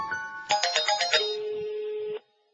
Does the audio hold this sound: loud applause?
no